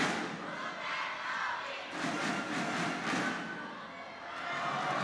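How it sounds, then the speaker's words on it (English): A crowd at a badminton mixed doubles match (Axiata Cup, Tontowi Ahmad/Liliyana Natsir against Robertson/Wallwork) chants the player's name Tontowi. The loud, roaring arena noise swells in rhythmic surges in the middle of the stretch. "you can hear the crowd saying, Tontowi, Tontowi."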